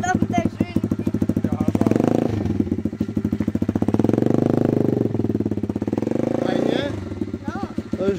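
A motorcycle engine near at hand is revved again and again, rising and falling in pitch with a throbbing idle in between, inside a motorcycle dealership.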